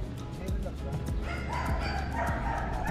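A dog barks repeatedly in short, sharp yips close by, during K9 handler training, while people talk over and around the barking.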